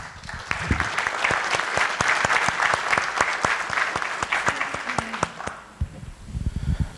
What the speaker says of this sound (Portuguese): Pessoal, uma sala de palmas, né?